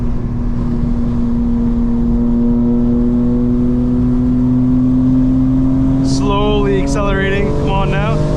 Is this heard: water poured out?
no